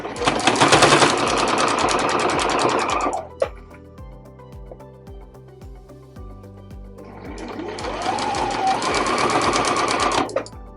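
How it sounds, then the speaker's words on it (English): A sewing machine runs a half-inch seam down the side of a fabric bread bag in two fast, loud bursts of stitching, separated by a quieter pause with soft mechanical clicks. "I'm going to do a half inch seam allowance all the way down all 3 sides"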